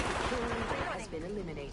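Rapid gunfire rattles in a PS4 shooter game, a quick burst of shots over game sounds with a voice briefly audible.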